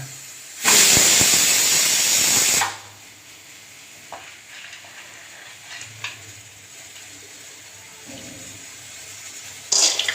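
Garlic and dried red chilli hit hot oil, and a loud, bright hiss bursts out for about two seconds before dropping to a faint simmer, with a few small clinks and another short sizzle at the end.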